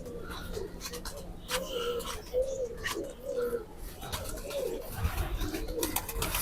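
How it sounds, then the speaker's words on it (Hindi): Soft cooing from a pair of Cheena pigeons kept among other pet pigeons, repeated low throaty coos rising and falling over faint background rustle. "साथ उसके चीना कबूतर है"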